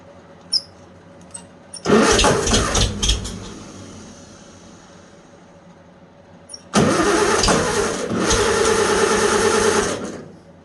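A tractor engine cranks and catches twice with the choke used, each time a loud rough mechanical roar lasting a few seconds, with a quiet pause between the two attempts.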